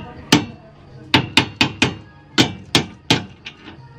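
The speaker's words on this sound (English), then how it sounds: "Use that hammer on that bad boy." A hammer strikes metal spikes on a column form casing at a house building site in the Philippines, about nine sharp, loud whacks in an uneven rhythm with short pauses.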